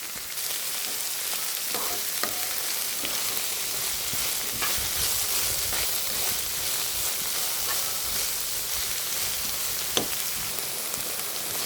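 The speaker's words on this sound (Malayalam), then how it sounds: "നമ്മുടെ വെണ്ടയ്ക്ക എല്ലാം ഒന്ന് വഴണ്ടിട്ടുണ്ട്." Okra sautéing with plenty of onion, green chilli and garlic in a pan, a continuous close sizzle with scattered stirring clicks and scrapes, no talking.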